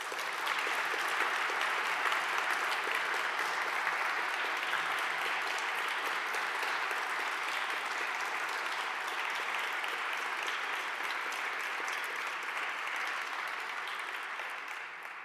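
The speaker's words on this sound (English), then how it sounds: "Let's give them a round of applause." Sustained applause from an audience at an honors convocation, a dense, steady wash of many hands clapping that holds evenly and fades slightly at the end.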